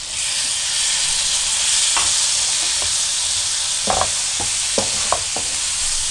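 Chopped tomatoes fry with a steady, bright sizzle in a pan for a spicy potato and okra curry, broken by several sharp scrapes and clicks of a spoon stirring.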